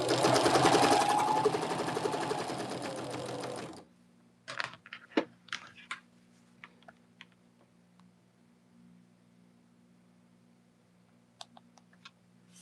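Home sewing machine stitching a quilt block for a Contrary Wife pattern, a loud steady whirring run for about four seconds, then scattered clicks and handling taps over a low hum.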